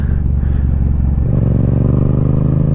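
Yamaha MT-07 motorcycle exhaust, a loud, close, deep rumble with an uneven pulsing beat that rises in pitch partway through as the engine revs.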